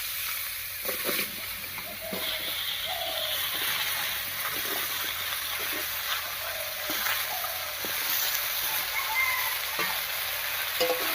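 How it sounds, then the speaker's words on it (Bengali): Chopped bottle gourd frying in hot oil over a cumin and bay leaf tempering, a steady close sizzle broken by scattered scrapes and clicks of stirring, with no talking. "ফোড়নের উপরে লাউটা দিয়ে একটু নাড়িয়ে নিলাম।"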